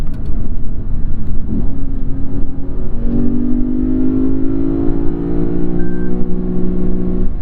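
A 2015 Lexus RC-F engine revs up against its rev limiter, a loud, close droning howl that climbs and holds a steady buzzing pitch for several seconds alone.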